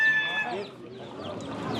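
Roosters and hens clucking together at a Sakarya poultry market, a steady close chorus of overlapping calls with some crowing, while people talk nearby.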